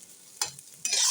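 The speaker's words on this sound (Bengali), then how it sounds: "আলু ভাজা" Potatoes fry in a pan in two short sizzling bursts, likely as they are stirred, the second bursting louder and sustained, close and clear with no voices.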